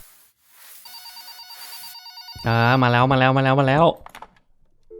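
Inside a house in the cleaning game Just Cleaning, a telephone rings with a loud, pulsing electronic trill of several quick bursts. Someone speaks just before it.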